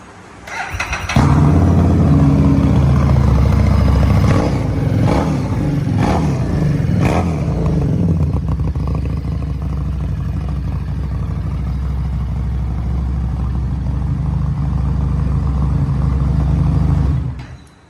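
A 2015 Triumph Street Triple 750 motorcycle engine starts and idles with a loud, steady rumble close up. It revs in several sharp bursts, then settles back into a constant idle. No one speaks.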